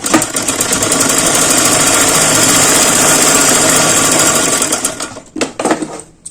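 A sewing machine stitching half-inch pleats on a blouse runs in a loud, continuous whirring rattle for about five seconds, then slows and stops with a few short bursts and clicks, close up, no talking.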